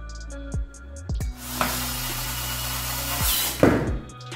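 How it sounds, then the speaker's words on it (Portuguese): A Black & Decker 4V lithium cordless screwdriver whirs as it drives a screw, starting and stopping in short motor runs with a steady whine, close by and without speech. "Agora eu quero parafusar"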